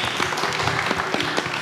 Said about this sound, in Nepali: राहुल तपाईको लागि म पटिबाट ताली है